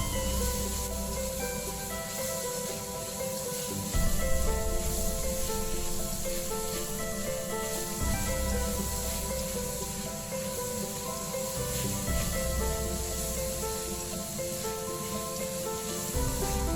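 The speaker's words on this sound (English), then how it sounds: "Add minced meat, stir fry until change color." Minced meat stir-frying in a pan for a Chinese cauliflower dish, a steady loud sizzle running throughout with regular spatula scrapes and clatters roughly every four seconds, no voices.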